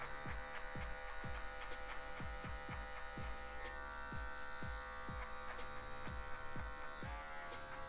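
Hair clippers on the zero high setting cut hair in a steady, close electric buzz that runs throughout, with faint repeated snipping ticks from the blade against the hair.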